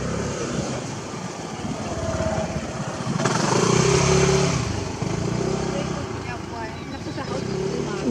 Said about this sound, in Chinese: 摩托车，摩托车， 摩托车， 车子，靠边，